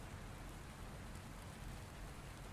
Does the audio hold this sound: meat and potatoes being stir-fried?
no